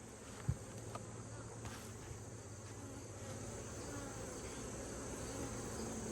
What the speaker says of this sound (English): there's just so many bees right now